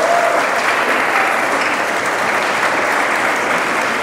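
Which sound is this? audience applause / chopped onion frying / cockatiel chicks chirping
audience applause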